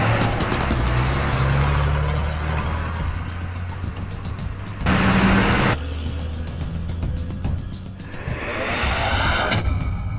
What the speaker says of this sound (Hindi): चला दे गाड़ी।